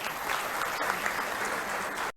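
Audience applause at a public gathering, a continuous, even wash of many hands clapping together for about two seconds before it cuts off abruptly.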